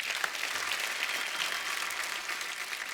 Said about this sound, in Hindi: तो एक बार तारा फ्रॉम सतारा की टीम के लिए जोरदार तालियां।